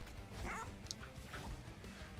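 A Bone Dog unit attacking in the video game Monster Train 2, with short yipping dog barks and whimpers over busy game effects, close and moderately loud.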